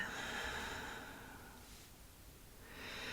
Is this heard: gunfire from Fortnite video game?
no